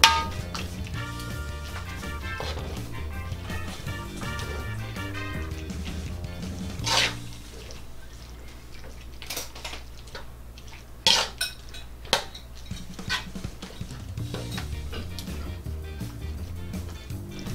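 Squid adobo simmering in coconut milk with basil leaves is stirred in a pan, with soft scraping and clinks of the utensil against the metal, a few sharper knocks, and a low continuous bubbling bed underneath, close and moderately quiet.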